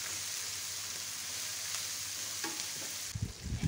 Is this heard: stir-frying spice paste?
yes